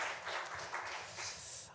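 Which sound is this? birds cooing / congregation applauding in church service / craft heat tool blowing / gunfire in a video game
congregation applauding in church service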